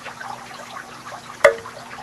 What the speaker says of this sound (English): So a curtain of bubbles there. You can see it just bubbling away at the top.